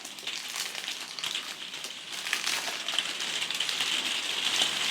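Rain falls in a dense, even patter close by, a soft hiss of drops that builds slightly toward the end, with no voices.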